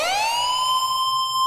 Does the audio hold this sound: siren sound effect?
yes